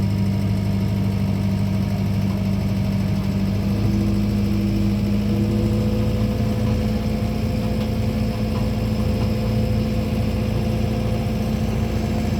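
A John Deere 4720 tractor pulling a TR3 drag over a gravel driveway, its engine droning steadily and close with a constant low hum throughout, no talk.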